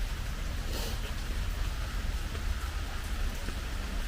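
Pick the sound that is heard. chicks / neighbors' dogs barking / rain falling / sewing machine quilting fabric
rain falling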